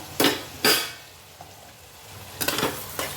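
A spoon scrapes and stirs Bhogi mixed vegetables sautéing with turmeric and garam masala in a pan, with a few distinct stirring strokes over a soft, steady sizzle.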